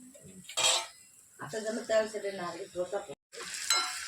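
Small puffed pieces of food fry in oil in a pan, a soft, steady sizzle running under a person talking nearby, with a few clinks from the pan.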